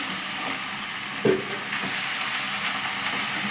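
Onions and amaranth leaves being turned in a hot pan, with a loud, continuous frying sizzle and one short thud as the spatula flips the food.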